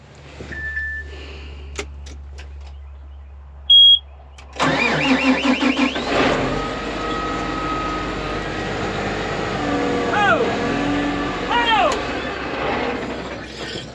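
A few clicks and a short beep, then a loud tractor engine cranks and catches, settling into a steady close idle with rising whine as it revs.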